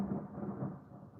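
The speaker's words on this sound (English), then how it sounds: "but the thunder's pretty bad." Thunder from a storm rolls as a deep, sustained low rumble that slowly fades, fairly faint and heard alone.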